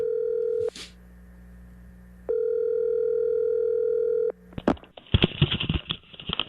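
A telephone dial tone hums steadily as a call is placed, cut by a brief click, resuming for a couple of seconds, then giving way to clatter and line noise as the call connects.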